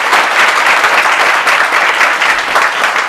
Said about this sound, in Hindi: जोरदार ताली इस बच्चे के लिए हो जाए।